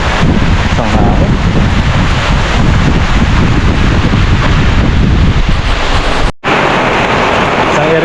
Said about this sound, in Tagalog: Lumuhos na naman ang malakas na ulan.